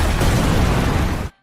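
A loud, sustained explosion roars through an anime battle between Yamamoto and Yhwach, a dense rumbling blast holding steady for over a second before cutting off abruptly into silence.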